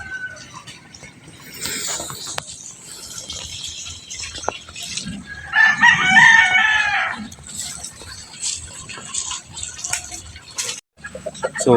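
Young gamecock stags crow and cluck in a yard where roosters are raised, with one prominent crow in the middle and scattered fowl calls around it, mixed with background noise and some talk.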